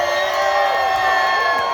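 A rally crowd at a Stop the Steal event in Lansing, Michigan cheers loudly, a dense sustained roar of voices and whoops filling the space throughout.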